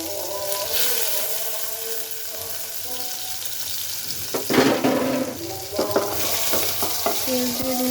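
Onions dropped into hot oil in a pot for a village vegetable dish sizzle steadily and loudly up close, with scraping stirs and clinks from a utensil breaking through the frying hiss.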